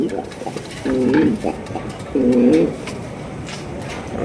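Two bursts of soft, throaty pigeon cooing, close by, with a pause between them and a quieter coo starting at the end.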